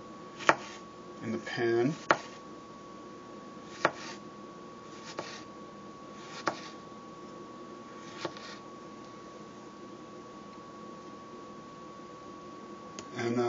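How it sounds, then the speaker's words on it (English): A knife slices tomatoes thinly for Thai veggie gyoza, making a handful of sharp, quiet cuts at uneven intervals over a low steady hum, with a brief spoken remark. "I'm going to cut these tomatoes nice and thin"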